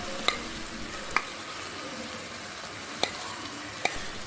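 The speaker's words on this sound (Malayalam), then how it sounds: "നന്നായിട്ട് ഇളക്കി കൊടുക്കുക." Soya chunks thoran is stirred in a frying pan, a spoon knocking the pan in four sharp, separate taps over a constant low sizzle, with no speech.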